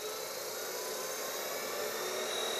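The motor of a Record Power Herald woodturning lathe runs at high speed as a steady, close, whining hum with a slight rise in intensity toward the end, heard alone.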